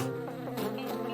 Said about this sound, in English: When they're in the air, their wings make vibrations the human ear recognizes as buzzing